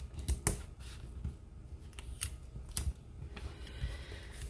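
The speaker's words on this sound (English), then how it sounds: "I'll trim that tail and take some tape" Scissors trim the tail of a ribbon wrapped around a handmade Christmas card, giving a few crisp, close snips with brief pauses between them and soft handling noises around.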